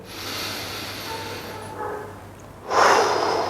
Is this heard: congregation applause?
no